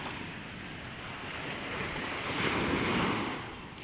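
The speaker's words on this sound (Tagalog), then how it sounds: "So andito po tayo ngayon sa tabing dagat" Steady wash of sea waves on a shore, a soft continuous roar that swells slightly in the middle, with no voices.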